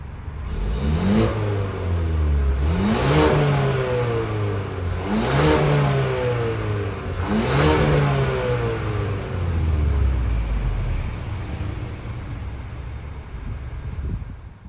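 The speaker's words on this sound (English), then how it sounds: "we do have a functional dual exhaust in this Explorer XLT. So why not take a listen" A 2023 Ford Explorer XLT 4x4's engine revs up hard four times in a row through its dual exhaust, each rising roar dropping back before the next, with a deep exhaust rumble and some wind noise.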